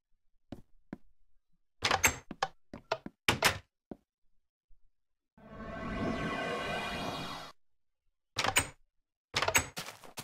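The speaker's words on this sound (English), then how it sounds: "And some people heard a door closing." A door closes in the video game Industrial Automation with a series of sharp knocks and thunks, followed by a longer sliding whoosh and then more clustered thuds, all crisp and isolated against silence.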